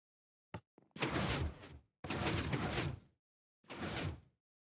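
A flying machine door in a block-building video game sliding into place in a warehouse wall, three bursts of grinding, whooshing mechanism noise separated by brief silences, with a couple of small clicks at the start.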